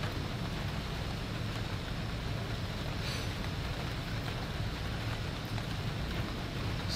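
Continuous heavy rainfall in a severe thunderstorm, a broad unbroken wash of droplets hitting surfaces, steady in level from start to finish with only a faint brief tick partway through.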